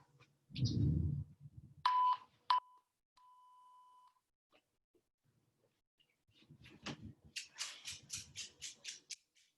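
A workout interval timer gives several short electronic beeps and one longer tone, then a quick run of rhythmic ticking beeps near the end. It sounds faint and sparse, with quiet gaps between the beeps and no voices.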